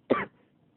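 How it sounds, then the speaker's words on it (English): A single short cough, close and fairly sharp, quickly followed by quiet. "I just don't know why again I'm coughing, okay?"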